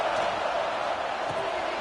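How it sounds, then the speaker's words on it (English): A home crowd at a college football game cheers as a steady, broad roar throughout, heard from within the stands. "this home crowd is fired up and ready to make a difference today"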